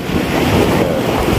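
Sea waves roll in at a beach resort in Lian, Batangas, a continuous wash of surf mixed with heavy wind buffeting against the microphone, loud and close throughout.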